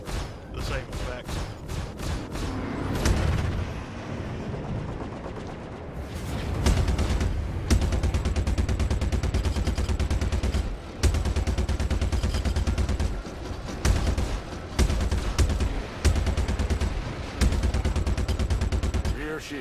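Heavy ship weapons fire from an Aegis Vanguard Warden in the game Star Citizen sounds as rapid, loud bursts of shots over a deep engine rumble, with a voice speaking partway through.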